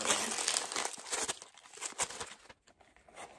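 Gift wrapping paper crinkles and rustles in close, busy bursts as a Valentine's tea present is unwrapped by hand. The noise fades toward a brief quiet near the end, and no one talks.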